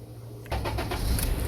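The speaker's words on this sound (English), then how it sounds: "So let me start back the car." Honda Accord engine starting, a quick crank that catches into a close, steady idling rumble, with no talking.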